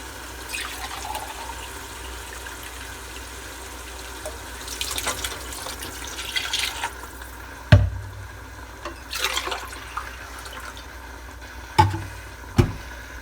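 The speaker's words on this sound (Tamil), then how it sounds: "ஆறு டம்ளர் தண்ணி ஊற்றிட்டேன்." Water is poured into a cooking pot for chicken drumstick biryani, giving a steady running, splashing pour across the clip. A few sharp knocks of utensils sound near the end.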